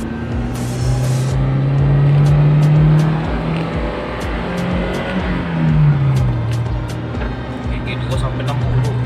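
A 2010 Toyota Innova fitted with a Blackcore part pulls hard in second gear, its engine droning loud and rising in pitch twice over road noise, with faint ticking and no talking.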